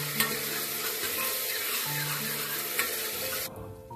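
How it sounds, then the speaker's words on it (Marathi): Onion and ginger-garlic paste sauté in a pan, giving a steady, close sizzle with stirring scrapes throughout and no talking. "यात थोडंसं आलं लसूण पेस्ट टाकायचा आणि याला पण 1 मिनिटभर परतून घ्यायचं आहे कांद्यासोबत"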